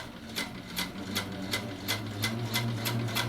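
A sewing machine free-motion quilts along a petal, its needle clattering in a quick, even rhythm of about three stitches per second over a low motor hum, close and fairly quiet.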